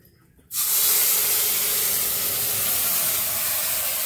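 Ground spice paste mixed with water goes into hot oil tempered with nigella seeds, bursting into a sudden loud, steady sizzle that holds evenly after the splash, with no voices.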